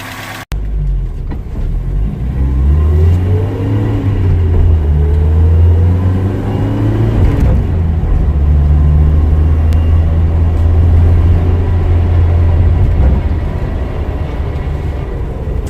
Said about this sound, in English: This is the engine from the Opel Manta SR